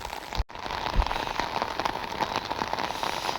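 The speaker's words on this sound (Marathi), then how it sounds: "वरून पाऊस पडत आहे, खोटं नाही सांगत, वरून पाऊस आहे." Steady rain patters densely on a surface close by in an onion field, with a brief dropout near the start, then an even, unbroken shower.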